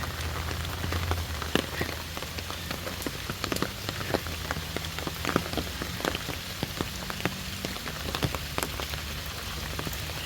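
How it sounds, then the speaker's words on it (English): Steady rain patters on an umbrella along a forest trail at a water temple in Cambodia, dense close drops tapping continuously with scattered sharper hits and no voices. "No sound except raindrops falling on my umbrella."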